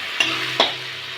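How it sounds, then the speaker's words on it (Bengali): Onion and garlic fry in a pan for a shrimp and potato curry, with two sharp scraping stirs over a soft, steady sizzle in a brief close burst. "পেঁয়াজ রসুনটা দিয়ে একটু ভালো করে ভেজে নিয়েছি"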